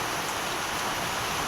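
Heavy rain falling during a power cut at home, a steady broadband hiss of downpour close by and fairly loud.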